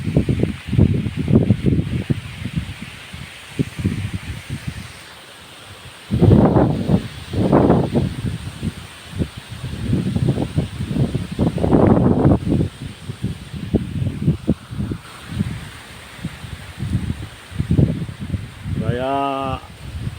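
Strong storm wind gusts through tree leaves, producing loud, surging rustles and roars in repeated waves with short lulls, close to the microphone.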